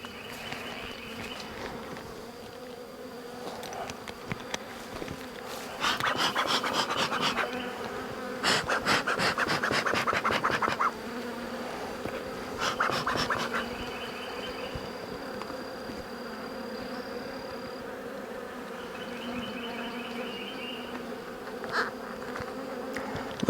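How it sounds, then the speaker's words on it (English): Honey bees buzzing around an open hive with two or three supers on, a steady close drone with louder bursts as individual bees pass near. "Beginning to get a lot of bees around me here."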